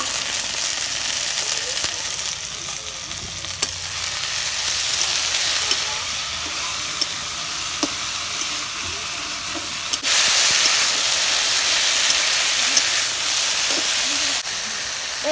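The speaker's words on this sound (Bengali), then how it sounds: "পেঁয়াজটা নাল নাল হচ্ছে এখন আমি ঢেঁড়স দিয়ে দিব" Onions and okra frying in a pan, with a steady, close sizzle and hiss that holds throughout and grows louder partway in, broken by occasional small clicks and stirring sounds.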